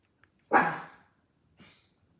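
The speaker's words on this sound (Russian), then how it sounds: "Надеюсь, вы от нашей сумасшедшей собачки не оглохли от этого звука." A dog indoors lets out one loud, sharp bark followed a second later by a shorter, quieter bark, close by with silence around them.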